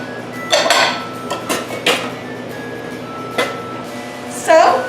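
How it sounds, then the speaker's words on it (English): Dishes and cutlery clatter and clink in a home kitchen as they are stacked into a dishwasher, with several sharp knocks and scrapes over a steady background hum. "And these dishes are going to the dishwasher."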